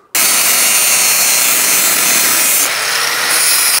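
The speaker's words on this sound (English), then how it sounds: "That's the other disc cleaned off." Brake disc on a Fiat Doblo van being cleaned, a loud, close, continuous abrasive rubbing hiss that starts abruptly, runs for several seconds with a slight change in tone near the end, then cuts off.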